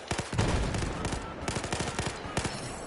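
Automatic weapon fire in the video game Battlefield 4 Hardline, a rapid run of loud, close shots in quick bursts that continues almost without pause.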